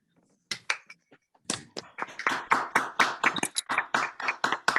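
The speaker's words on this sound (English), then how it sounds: "we'll join in an applause for everybody" Applause from an online audience on a video call as participants unmute, starting with a few scattered claps and building into uneven, close-miked clapping of varied loudness.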